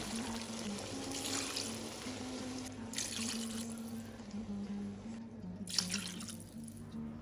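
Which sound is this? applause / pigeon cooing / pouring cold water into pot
pouring cold water into pot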